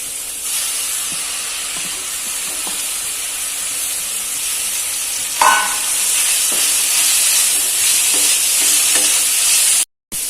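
Mint, coriander and curry leaves fry in hot oil for a prawn gravy, giving a steady loud hiss and sizzle throughout with a few faint clinks, a brief dip near the end.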